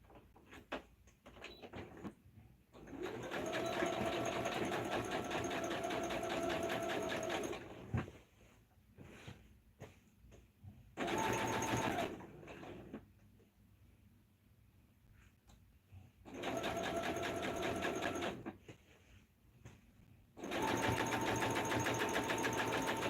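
A sewing machine stitches jeans in four sustained motor-driven runs of steady whirring, separated by short quieter pauses with small handling noises.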